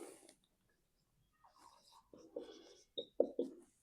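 Pen or pencil scratching out a trigonometry solution on paper, a few short bursts of strokes separated by quiet pauses, close and fairly soft.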